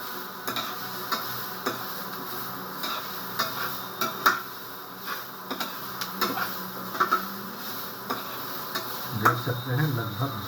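Cauliflower being stirred and roasted in a pan with salt, giving a low sizzle under scattered scraping and clicking stir strokes, close and fairly faint, with a louder scrape near the end.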